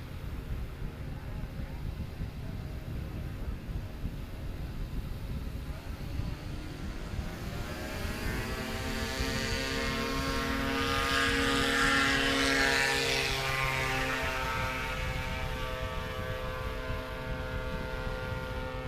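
A STOL airplane's propeller engine roars up at a short-takeoff competition, the droning pitch climbing and growing louder as it speeds down the strip and lifts off, with a steady outdoor rumble underneath.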